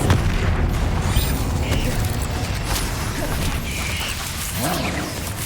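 Spell explosions from Confringo and Bombarda in the video game Hogwarts Legacy form a dense, continuous rumble of booms, pops and crackles over busy game noise.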